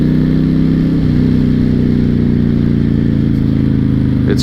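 A 2006 Honda VTX1300 cruiser motorcycle rumbles steadily while riding, a loud low engine drone with a throbbing pulse and constant wind roar, no talking over it.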